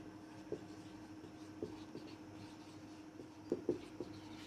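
Chalk or marker on a board during a chemistry lesson makes faint, close scratchy taps and short strokes, a few sharper marks clustered near the end over low room hum.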